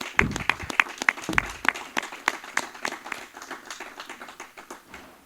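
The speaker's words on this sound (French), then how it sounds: "Est-ce qu'on peut d'abord acclamer notre leader Moïse Katumbi?" A crowd at a political presidents' conference applauds leader Moïse Katumbi: dense, uneven hand clapping with sharp individual claps early on, gradually thinning and fading toward the end, with no speech over it.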